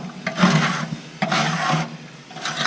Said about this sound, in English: I'm just going to scrape